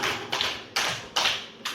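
A classroom group claps together in counted sets, four crisp, evenly spaced collective claps ringing out alone with short decays between them.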